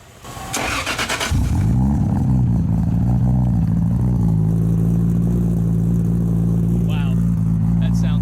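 A tuned Toyota 2JZ Supra engine with a titanium exhaust cranks briefly, catches and settles into a loud, deep, throaty idle with a slight rev, close by; a voice cuts in near the end.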